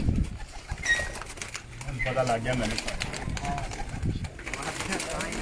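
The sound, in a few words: pigeons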